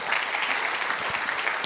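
Brief burst of congregational clapping during a morning prayer church service, a steady patter of many hands at moderate distance, lasting under two seconds.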